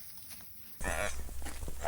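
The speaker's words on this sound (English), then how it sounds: "Oh, we got a bobcat." A bobcat lets out a harsh, loud vocalization that starts abruptly after a moment of quiet, a rough, strained cry lasting about a second, heard close up.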